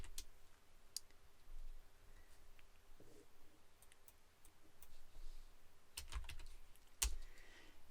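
Keys tapped on a computer keyboard while data is entered into a form, heard as faint, irregular clicks spaced out over a quiet room tone, with a couple of sharper taps near the end and no talking.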